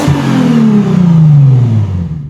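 A 2007 Lexus IS350 V6 fitted with a new catback exhaust revs hard and close by, one loud rising then falling engine sweep lasting about two seconds, with no talking over it.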